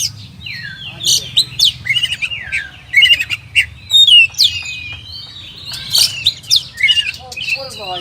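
Oriental magpie-robin (kacer) singing a loud, varied song of whistled phrases and sharp chirps, continuous bursts close to the mic over a low steady background hum.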